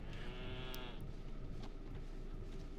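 A sheep in the video game Elden Ring lets out a loud, wavering bleat that trails off, followed by scattered game noises over a steady low rumble.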